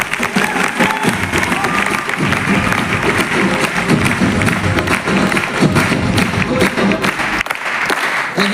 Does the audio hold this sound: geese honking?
no